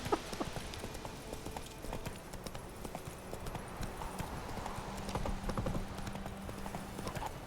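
Hooves of the horse Roach clip-clop in a steady rhythm in The Witcher 3 video game, close and clear throughout, with a brief neigh and faint background ambience.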